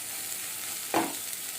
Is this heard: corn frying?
yes